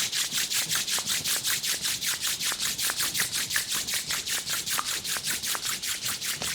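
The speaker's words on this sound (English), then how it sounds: "Rub your palm against each other, generate some warmth." Palms rubbed briskly together during a group meditation, a fast steady back-and-forth swish repeating about four times a second, close and alone without talk.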